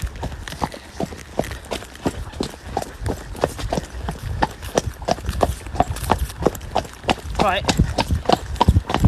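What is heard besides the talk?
horse hooves cantering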